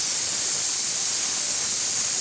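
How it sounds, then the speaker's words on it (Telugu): Steam hissing steadily from a pressure cooker whistle as tomato rice cooks, a continuous broadband rush heard alone at moderate loudness without any voice. "ఇంకొక విజిల్ వస్తానే ఆఫ్ చేసేసుకుంటాను."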